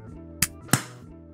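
Two sharp, close claps ring out a fraction of a second apart over a faint, steady hum, the second slightly louder with a brief decay.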